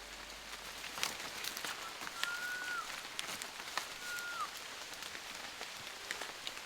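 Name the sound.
rain falling in the Amazon rainforest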